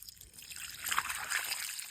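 Water is poured over a freshly cut pumpkin to wash it, a soft close trickle and splash running for about two seconds with no talk over it.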